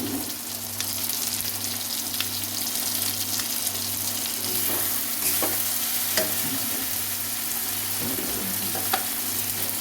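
Onion, tomato and green chili stir-frying in a pan for a Bengali restaurant-style mutton keema with peas: a steady close sizzle with scattered scraping stirs throughout, no talking.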